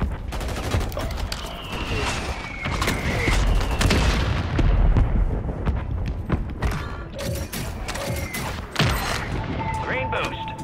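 A Call of Duty airstrike lands among rapid gunfire, with heavy booms, bursts of automatic fire and creaking debris in a loud, dense battle mix, and game voices calling out over it.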